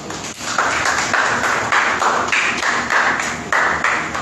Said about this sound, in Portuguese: Aleluia, aplauda o nome de Deus essa noite.